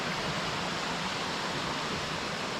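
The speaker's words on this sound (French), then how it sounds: "il est là-bas la cascade, je l'aperçois" Waterfall on São Miguel in the Azores: steady broadband rushing and hissing of falling water, constant and fairly even, with no voices.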